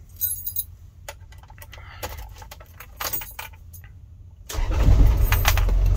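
Keys jangle, then a 3.7-liter Toyota 14B diesel engine in a 1992 Toyota minibus cranks and catches, settling into a loud, rough idle heard close up from the driver's seat.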